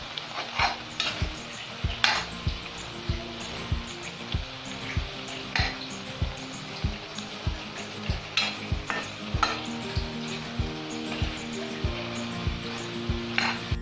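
Chicken for a home-style ginger chicken fries over a high flame in a pan, with a constant sizzle and a steady rhythm of spatula scrapes and knocks against the metal, close up and without speech.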